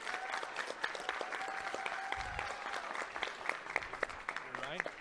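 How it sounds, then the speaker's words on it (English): Applause from an audience at a Fort Worth ISD school board meeting, steady dense clapping heard at a distance and fairly faint, with a voice talking over it. "One more big round of applause for YMLA."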